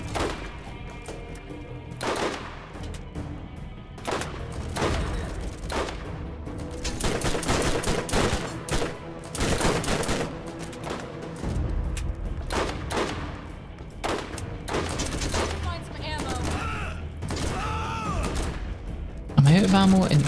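Rapid bursts of gunfire from the video game Borderlands, repeated volleys and single shots throughout at moderate loudness, with players talking over the shooting.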